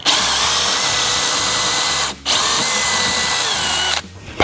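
A power drill bores holes in wood with a loud, close, steady high whine that runs for about two seconds, stops briefly, then runs again before cutting off.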